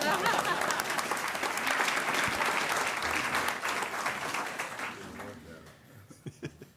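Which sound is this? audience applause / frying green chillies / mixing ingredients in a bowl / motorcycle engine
audience applause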